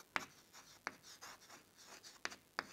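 Marker or chalk strokes on a board during a lecture, heard as a few faint, sharp taps and scratches spaced apart in a quiet room.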